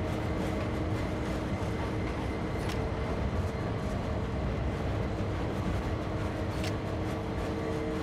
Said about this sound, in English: unlock the brakes, and the train is already rolling back